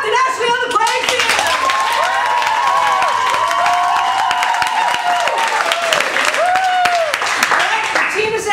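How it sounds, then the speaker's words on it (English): An audience claps and cheers during a game show, a dense continuous roar of applause under a loud announcer's voice and sustained musical tones. "time for that number 7 applause again"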